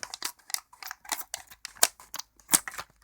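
Scissors snipping open a Halo Mega Bloks series 2 blind pack, a string of short crisp cuts and rustles in quick irregular rhythm, close and fairly loud, with no talking.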